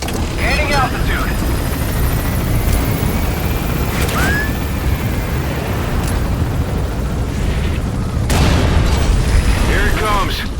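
Helicopter rotor and engine roar from the stealth action game Metal Gear Solid V: The Phantom Pain, a steady loud drone with mechanical whine, overlaid with game effects and brief radio-style voices.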